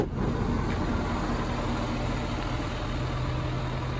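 A 2019 Ford F-350 Super Duty with a 6.7 liter Powerstroke turbo diesel engine running, a steady low idle rumble with a faint constant hum, even and close throughout with no talking.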